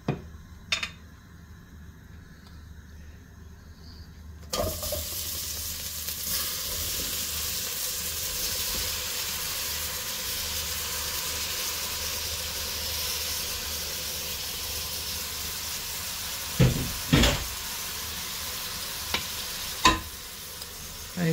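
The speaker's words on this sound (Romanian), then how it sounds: "să-și lase apă și atunci ceapa nu va fi prăjită, va fi călită" Steady sizzling and hissing of onions and vegetables sautéing in a pan, with occasional stirring clatter and a few sharper knocks of a utensil.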